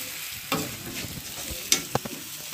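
Vegetables lightly frying in a pan for a rawa appe dish, with a steady soft sizzle broken by a few sharp utensil clicks and scrapes, close and with no voice.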